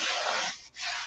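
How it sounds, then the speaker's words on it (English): Steady broadband rubbing of wax being worked by hand onto chalk-painted furniture, close and continuous with a brief pause just before the end, no voices. "So let's wax it."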